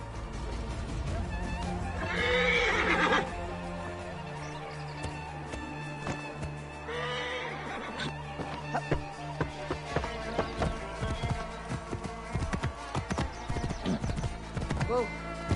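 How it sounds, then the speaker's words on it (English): Horse in the Assassin's Creed Origins game: clip-clopping hooves run steadily across most of the clip, with whinnies and neighs rising near the start and again midway, mixed with game music and ambience. "I should find a horse."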